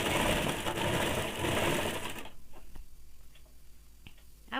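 A sewing machine running a single line of stitching on a woolen baby frock: a dense, rapid mechanical rattle for a couple of seconds, then stopping, followed by scattered clicks and ticks of the mechanism.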